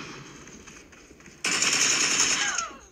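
PUBG Mobile gunfire played on an iPhone 11: faint game noise, then a sudden loud burst of rapid automatic fire lasting just over a second before it cuts back.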